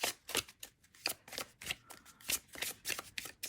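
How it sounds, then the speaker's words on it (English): Tarot cards shuffled steadily by hand, a close, rhythmic run of quick riffling bursts with no talk. "Let me just keep shuffling."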